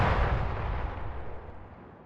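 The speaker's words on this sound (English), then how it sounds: "If you're in this city at noon, you might be jolted by the sound of a cannon shot." Noon cannon shot fired over Nice, France: a single deep boom already underway, its low rumbling reverberation rolling and slowly decaying over about two seconds, loud and echoing across the city.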